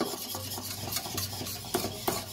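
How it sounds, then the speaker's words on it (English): A whisk scrapes and swirls through milk and cream cheese for a from-scratch mac and cheese sauce, with quiet rapid strokes and a couple of sharper metallic taps against the pot, heard alone. "I'm just going to whisk it in"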